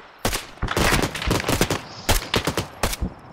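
An Arma 3 Mark 19 grenade launcher fires a series of loud, sharp bursts, starting with a few heavy thumps and then a quick run of closely spaced, punchy reports.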